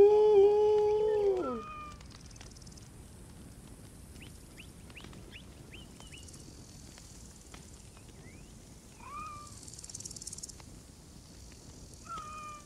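A cat in the game Assassin's Creed Origins meows loudly and strained as it burns in fire, one drawn-out cry at the start followed by fainter scattered chirps and squeaks.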